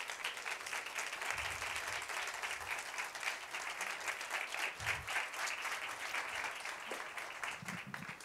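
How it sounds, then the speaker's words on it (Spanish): Applause from the audience at a film short-competition gala in Spain, steady clapping that carries on throughout at a moderate, slightly distant level. "para todos ellos les pido un fuerte aplauso"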